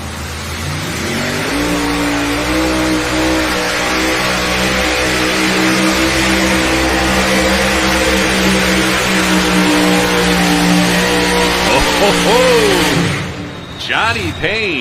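Light modified pulling tractor with a GMS-sponsored machine, roaring steadily and loud at a truck and tractor pull for about thirteen seconds with dense engine harmonics, then cutting off abruptly into brief sputters, with announcer talk running over it.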